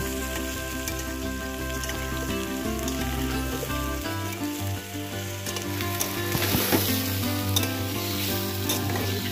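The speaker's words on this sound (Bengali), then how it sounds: "সব সবজিগুলোকে হালকা ভাজা ভাজা করে নিয়ে দিয়ে দিচ্ছি বেগুন" Mixed vegetables and eggplant sizzle steadily in hot oil in a pan, a loud continuous crackle with occasional stirring scrapes and a steady hum underneath.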